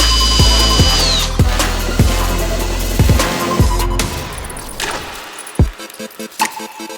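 A power drill bores holes in a homemade forged carbon spoiler for a Toyota GR Supra. The motor whines loudly, broken by repeated thumping bites and grinding, then winds down into a few scattered knocks.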